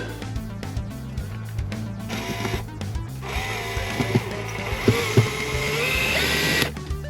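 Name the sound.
screws being screwed in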